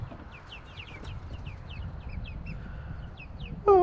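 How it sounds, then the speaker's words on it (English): Large backyard chickens, including hens in a farm coop area, cluck and chirp in short scattered calls over a steady low outdoor rumble, with a sharper, louder call at the very end. "Absolutely insane how big these chickens have gotten."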